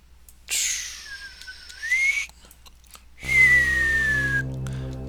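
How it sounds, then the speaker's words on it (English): A person whistles into a close microphone in two long sustained tones, the first rising slightly, the second gliding downward, loud and alone without talk. "you probably hate me whistling into the microphone like that"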